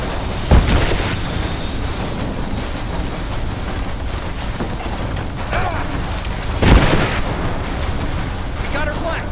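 Gunfire and heavy booms ring out in a Rise of the Tomb Raider firefight, with two loud blasts standing out against a constant rumble of combat noise while voices shout over the action.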